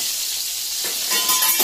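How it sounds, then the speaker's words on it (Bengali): Pointed gourds (potol) drop into hot oil and fry with a loud, continuous sizzling hiss that grows a little harsher toward the end. "এবার আমি পটলগুলোকে ভাজার জন্য তেলের মধ্যে ছেড়ে দিচ্ছি"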